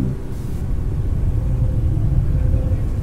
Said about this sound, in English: a deep rumbling shakes the building